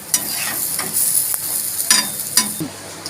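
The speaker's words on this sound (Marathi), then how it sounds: "आता याला पलटी करून घ्यायचं" Chapati paratha of mixed vegetables frying in ghee on a pan, a steady close sizzle with a few sharp crackles and soft scraping as it is flipped, no voices.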